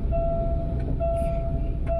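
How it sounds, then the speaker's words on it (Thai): A train approaches with a steady, loud rolling rumble and a sustained tonal whine held almost throughout, with no voices. "รถไฟก็ยังมาแล้วนะครับ"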